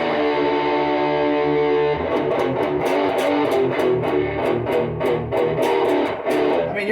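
Electric guitar through a Hotone Eagle's Heart distortion pedal: a sustained distorted chord rings out, then palm-muted chugging riffs with sharp picked attacks, loud and upfront with no talking.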